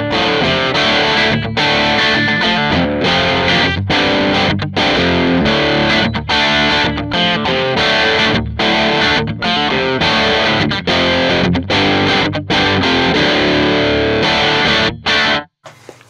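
Electric guitar played through a Mooer Fifty Fifty amp on its bright channel with a Harley Benton 1x12 cabinet, loud distorted chords in a rhythmic strummed pattern with brief choked gaps.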